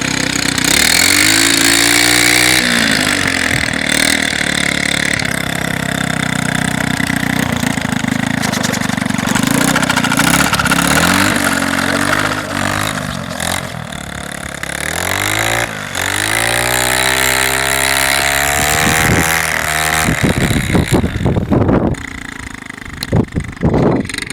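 A small motorized snow scooter engine runs close and loud throughout, buzzing at a steady idle and then revving up and down in repeated swells before it eases off near the end.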